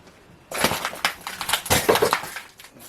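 Broken glass crunches and grinds underfoot on the stairs of a long-abandoned house, a near run of irregular crackling steps and scrapes lasting a few seconds with no talk.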